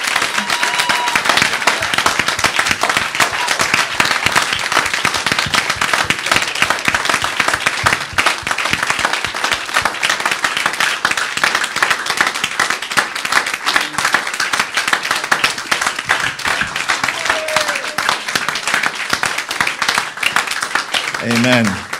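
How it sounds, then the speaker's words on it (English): A church congregation gives a long, sustained round of applause, dense and steady clapping filling the room at high volume, with voices in the crowd beneath it. "And with a big round of applause, please, let's appreciate it."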